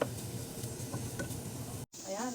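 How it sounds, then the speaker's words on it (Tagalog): Spam pan-fries in a hot pan with a dense, steady sizzle, close by. A short, sharp drop near the end breaks the noise, then the frying picks up again. "pan-fry na natin yung spam"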